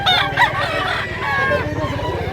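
Roosters crow loudly and close among clucking chickens at a poultry market in Mantalungon, Barili, Cebu, overlapping calls filling the short stretch.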